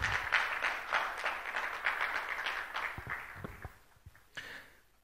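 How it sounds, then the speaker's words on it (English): Audience applause at a conference for the agro-industry strategy launch, a steady wash of many hands clapping that gradually thins out and fades, with a few last scattered claps near the end. "Please, another round of applause for Vanessa."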